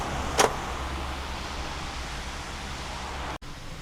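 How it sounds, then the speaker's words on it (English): Electric fan running right beside the microphone, giving a steady close broadband whoosh with a faint low hum and one brief knock near the start. "Sorry for the noise, but the fan's right here."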